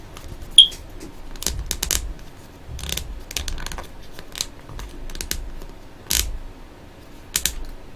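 Plastic action figure joints are rotated and clicked by hand, giving a run of dry ratcheting clicks and small creaks in irregular bursts, close and clear with no talk.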